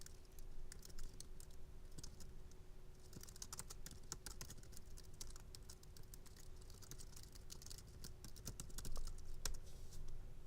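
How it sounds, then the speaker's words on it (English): Steady rapid clicking of a computer keyboard as a line of code is typed, close and fairly quiet, with uneven bursts of keystrokes and no speech. "I'm going to write a line of code"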